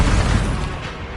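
A deep, booming blast from an Expulso spell in a Harry Potter video game, one loud low rumble that fades over about a second.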